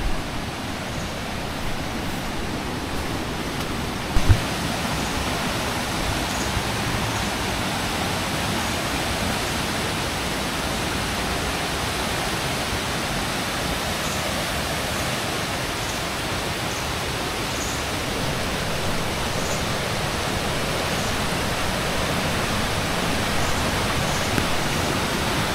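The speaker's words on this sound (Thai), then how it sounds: "น้ำตกเฉลิมเกียรติร.9นะครับ" Chaloem Kiat Ro. 9 waterfall in Betong, reached on foot in the rain, roars as a steady, dense broadband rush of falling water that holds constant and close throughout, with no voices.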